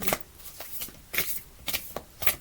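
Altar cards are shuffled by hand, a series of quick riffling and slapping bursts in an uneven rhythm, close and crisp with no talk.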